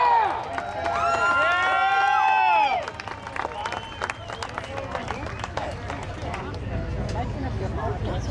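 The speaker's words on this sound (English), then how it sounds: "How about a round of applause for Vinny Aranagaro?" Crowd applause at a speedway for a race winner on a night of spectator drags and late model racing. Cheers and whistles come first, then loud clapping and crowd noise that gradually thins under a low rumble.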